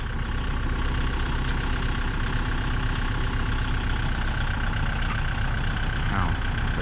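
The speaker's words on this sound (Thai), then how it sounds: "รถไถก็ค่อยๆถอยลง" A farm tractor idles with a steady, rumbling diesel drone as it slowly reverses down off a dump truck, the engine sound continuous and close with little change in pitch.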